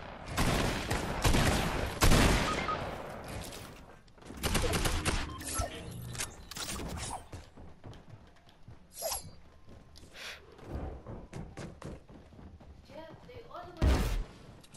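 Gunfire and building impacts in Fortnite, loud scattered bursts and sharp cracks spread across the stretch with quieter gaps, while people talk over much of it.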